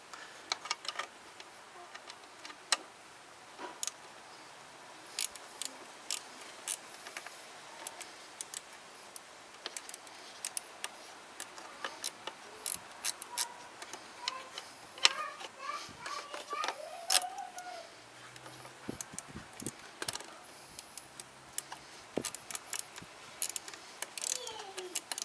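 A 12-point ratcheting wrench, number 6, clicks intermittently while working on an N52 engine's intake manifold. The quick, faint ticks come in short bursts over a quiet background.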